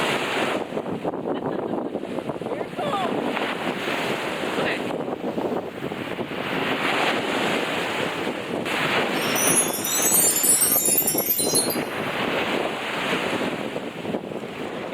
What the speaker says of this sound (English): them waves are extremely violent right now